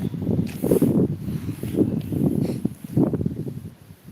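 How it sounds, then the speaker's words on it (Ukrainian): Low, gusty wind buffets the microphone in uneven rumbling bursts, strong and close, with no clear voices. "Але вітер сильний."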